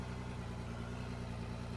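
Rock truck engine idling in the mining simulator Out of Ore, a low steady diesel rumble with an even throb, constant and fairly faint, no talk.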